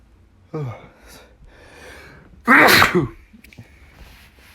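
A single loud sneeze bursts out with a sharp gasp-like intake before it, close by, surrounded by quiet breathing and faint room noise.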